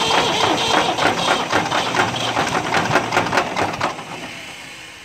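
A Ford 8000 tractor engine with a hole in the block cranks over in a steady, rapid rhythmic chugging for about four seconds, then fades as the cranking stops without the engine catching.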